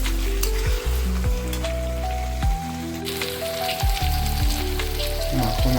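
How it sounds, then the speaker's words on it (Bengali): Potatoes sizzle in a hot pan for Bengali chicken kosha, with a steady crackling fry and the scrape of stirring up close, set against faint background tones. "দিয়ে দিলাম আলু, ভালো করে মাখিয়ে নিলাম।"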